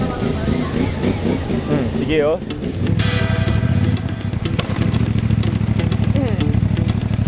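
A motorcycle engine idles with a steady low putter, occasionally revving, while people talk and shout over it nearby.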